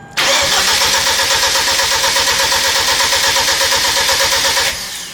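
A built Hyundai Genesis Coupe engine fires up on its first start after installation, catching at once and settling into a steady, loud, close idle with a rapid even pulse, then cutting off abruptly.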